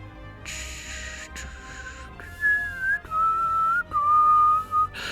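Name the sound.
whistling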